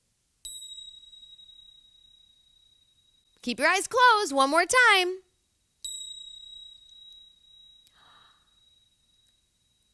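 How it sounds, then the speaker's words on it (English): A small bell rung during a children's listening game, two clear bright dings that ring out and slowly fade, with a voice speaking between them. "It's a bell!"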